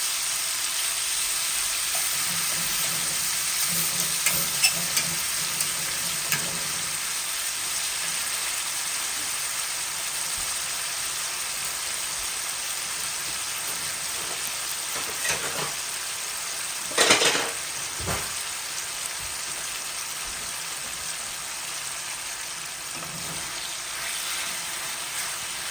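Chicken pieces cooking in a pan alongside roasted asparagus, a steady, dense sizzle of frying throughout, with a few brief utensil scrapes and clinks near the middle.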